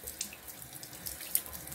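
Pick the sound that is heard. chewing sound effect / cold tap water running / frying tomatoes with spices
cold tap water running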